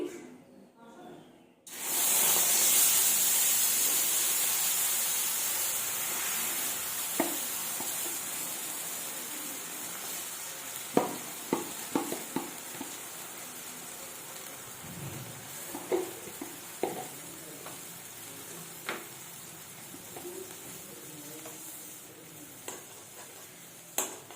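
Butter sizzles steadily in a hot karahi as it cooks down into ghee, a broad hiss with scattered pops and light scraping stirs, moderately close and without voices.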